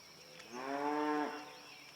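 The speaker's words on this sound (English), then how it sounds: "Dag blasted cows." A single cow moos once near a water hole, a drawn-out lowing call of about a second, moderately distant against a quiet, steady background.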